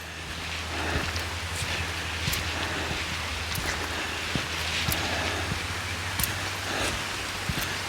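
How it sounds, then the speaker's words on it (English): Rain falls on a forest canopy along a hiking trail, a soft continuous patter with scattered sharper drops hitting nearby leaves, steady and fairly quiet throughout. "I hear that it is raining, but kind of protected by the canopy"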